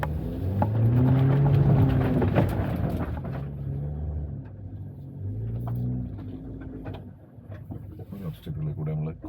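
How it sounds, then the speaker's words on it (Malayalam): Jeep Wrangler Rubicon in second gear crawling over an off-road obstacle, a loud, low engine rumble that swells and eases, with knocks and creaks and talk over parts of it. "മാനുവലി ഷിഫ്റ്റ് ചെയ്ത് സെക്കൻഡ് ഗിയറിൽ ഇട്ടിട്ടാണ് ഞാൻ അതിൽ കൂടെ ഓടിച്ചത്"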